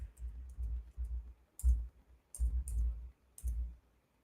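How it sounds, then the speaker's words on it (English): A computer keyboard clicks under quick keystrokes in short clustered bursts with small pauses, close and fairly quiet, with no talk. "So let me just type here."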